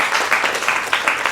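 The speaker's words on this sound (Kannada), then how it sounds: "ಬರ್ಲಿ ಚಪ್ಪಾಳೆ" A crowd applauds at the birthday celebration of director and politician Dr. Madan Patel, a dense, steady wash of many hands clapping together that swells in a few waves over a little more than a second.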